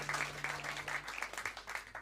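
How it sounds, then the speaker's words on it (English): Applause from the crowd at a live music gig, honouring the sound engineer: quick clapping with distinct repeated hand claps, heard faint and some distance away. "Can you actually give him a round of applause for being a total legend of a sound guy?"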